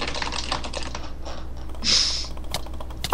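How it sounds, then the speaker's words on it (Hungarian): Computer keyboard keys clatter in a quick, uneven run of light clicks, with a brief louder burst near the end, heard close and alone with no talk. "mondták, hogy nagyon lehet hallani a billentyűzeten, megpróbálok halkabban nyomogatni"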